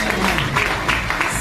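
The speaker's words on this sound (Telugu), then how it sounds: "వాళ్ళందరూ కూడా క్లాప్స్." Audience at a leadership training session clapping together, a dense steady patter of many hands filling the room at close range, with a faint murmur beneath.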